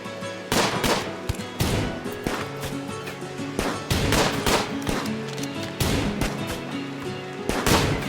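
Colonists fire on raiders in the video game RimWorld: a rapid series of sharp gunshots in irregular bursts, loud and close, with no talk.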